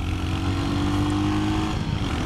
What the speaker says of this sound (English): This engine has so much character and just loves to be revved and revved and revved.